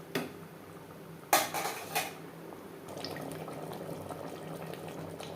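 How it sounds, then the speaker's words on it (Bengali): Mutton and potato curry cooking in a pot as tomato paste is mixed into the meat: a few sharp clanks and scrapes of a spoon against the pot, then a steady, soft sizzle over high heat. "টমেটোর পেস্ট মাংসের সাথে বেশ ভালো করে মিক্স করে দেব"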